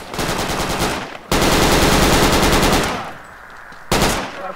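Loud automatic gunfire in the military game Project Reality v1.39: a long stretch of rapid fire, a brief gap, a heavier sustained burst that fades, then a final short burst, close and dense with no voices.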